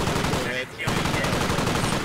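Gunfire in the Squad Ops military shooter game, a dense run of shots crackling steadily through most of the stretch, loud and close, with a brief lull partway through.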